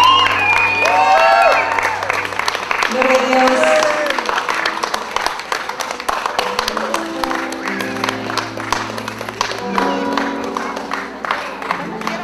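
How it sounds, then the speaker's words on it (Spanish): Wedding guests burst into applause and cheering for the groom's grandmother, a dense wash of clapping and whoops with music and a voice speaking over it throughout. "Pido un aplauso para mi abuelita Lucina Sierra."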